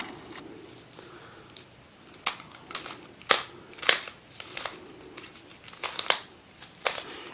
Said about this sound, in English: It kind of clicks into place, and you can probably hear it